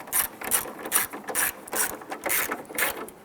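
Screws holding the plastic corner light on a 1995-2001 Ford Explorer are snugged down with a ratchet, giving a quick run of crisp, close clicking in an even rhythm with no talking.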